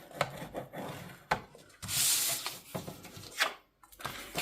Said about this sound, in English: I'm going to score all 4 of them at 2 inches